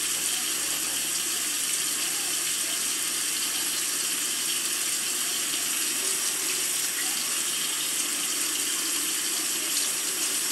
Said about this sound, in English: run water through the push rod because there's a hole that transfers oil from the bottom of the engine up to the top of the rocker arms